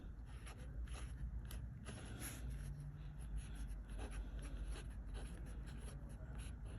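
Fountain pen with a bent Fude nib, inked in Waterman Inspired Blue, scratching steadily across paper in close, quiet strokes with a faint continuous background hiss.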